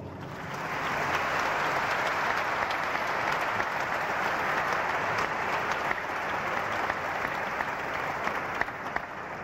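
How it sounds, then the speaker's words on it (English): Large audience at a religious debate breaks into sustained applause, rising quickly from quiet into a loud, dense wall of clapping that holds steady to the end. "I think they need your applause"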